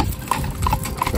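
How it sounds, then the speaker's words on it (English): Mares' hooves clip-clopping on a road while being driven, close and rhythmic in a brisk steady beat with faint background noise. "The rhythm of the hooves as they touch the ground."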